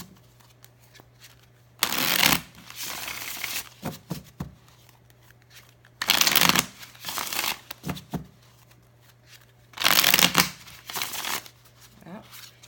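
Deck of cards shuffled for a reading in three brisk riffling bursts with soft handling sounds between them, over a low steady hum.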